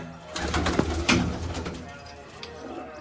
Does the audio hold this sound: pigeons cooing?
yes